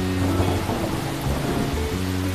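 Steady rain pours down in an even, dense hiss with a faint low background hum, with no voices heard.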